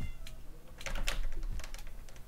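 A Minecraft cat gives a short meow amid a quick patter of keyboard and mouse clicks, faint and close, over a low background hum.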